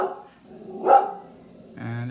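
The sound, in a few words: dog barking at a passing dog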